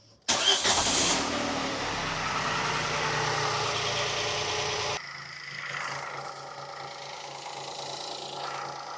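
A Citroen C1 three-cylinder engine cranks and catches with a sudden burst, then settles into a steady, fairly loud idle that drops to a quieter, uneven rumble.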